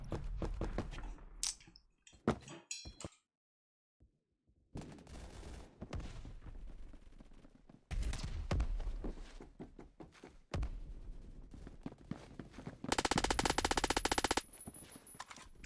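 Gunfire in the Phantom Forces video game comes in irregular bursts of sharp shots separated by brief quiet gaps, ending with a loud sustained rapid-fire stream.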